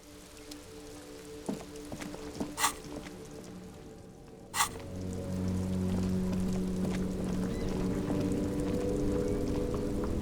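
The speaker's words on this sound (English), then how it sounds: "This rain will not let up anytime soon." Rain patters in a city scene in the video game Disco Elysium, a soft steady wash broken by a few sharp clicks, with a low engine-like drone swelling in partway through.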